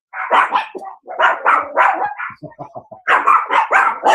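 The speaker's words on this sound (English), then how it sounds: "The dogs are barking." Several dogs barking outdoors at night, loud, close bursts of overlapping barks in quick groups, with a short run of smaller yips in the middle.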